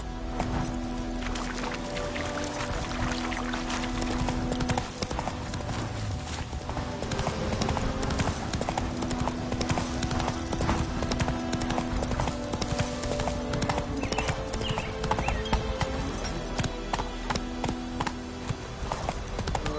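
Roach, the horse in The Witcher 3, trots with steady hollow clip-clopping hooves under a continuous game soundscape and music.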